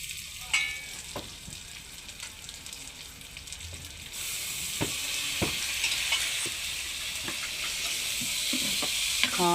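Potatoes sizzle steadily as they fry in a curry outdoors on a cold evening, with sharp spoon scrapes and knocks against the pot breaking through. The hiss swells and grows louder partway through.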